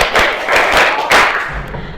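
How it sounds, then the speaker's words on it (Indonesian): A school class claps along in a counting clap game, several quick group claps in short bursts, loud and close in a classroom. "tepuk 1, tepuk 2, tepuk 3, tepuk 4, tepuk 5"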